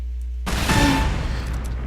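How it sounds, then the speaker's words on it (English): A single rocket explodes in a shooter video game, a loud boom that bursts in abruptly after near silence and then rumbles and crackles as it decays. "With a single rocket, I do this much damage."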